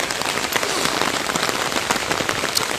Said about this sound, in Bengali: সকালে বৃষ্টি হচ্ছে, তো এখন পর্যন্ত বৃষ্টি চলছে